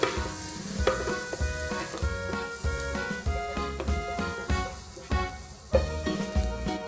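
Onions sauté in melted butter in a pan, a continuous close sizzle broken by repeated stirring clinks and scrapes, with faint tonal background sound underneath.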